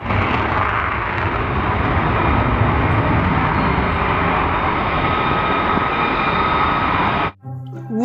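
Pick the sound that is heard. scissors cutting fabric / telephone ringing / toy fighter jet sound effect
toy fighter jet sound effect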